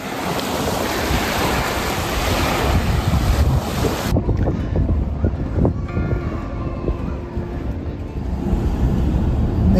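Ocean waves wash onto a shell-strewn beach at Marco Island, Florida, in a steady loud rush mixed with heavy wind buffeting the microphone; the surf noise stays continuous throughout, with no pauses between breakers.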